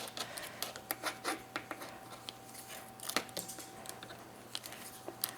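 Clean kitchen scissors snip repeatedly in a quiet garden setting, a string of short, crisp cuts at an uneven rhythm, close and fairly soft, with no talking.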